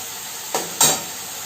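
Spice masala fried in a pan for a sardine fish curry gives a steady low sizzle, broken by two short stirring scrapes close by.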